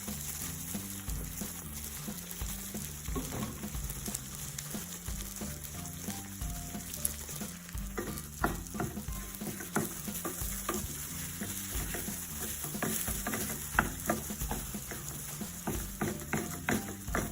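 An egg mixture fries in a pan with a continuous crackling sizzle and scattered pops, heard under steady background music.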